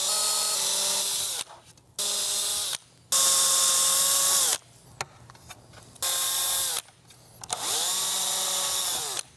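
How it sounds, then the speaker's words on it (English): A power drill bores screw holes into a plastic toy ghost trap in several close, loud bursts, each whirring up and winding down with short pauses between. "I'll have to drill right there to add a real screw."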